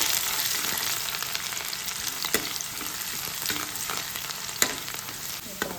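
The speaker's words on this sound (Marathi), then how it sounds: "कांदा आपल्याला खूप छान परतून घ्यायचा आहे, म्हणजे गोल्डन कलर होईपर्यंत मस्त असं छान परतायचं" Onions sautéing in a pan until golden give a loud, steady sizzle and frying hiss, with occasional scrapes from stirring and no voices.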